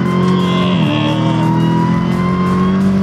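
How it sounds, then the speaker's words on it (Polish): A car accelerates hard, its engine note loud and close, holding a steady drone before dropping and climbing again through a gear change, with no talking. "No to w takim razie przyspieszamy jeszcze raz."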